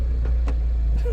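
Engine of a salvage-auction car idling steadily after starting, a low constant rumble close by with faint brief knocks over about a second.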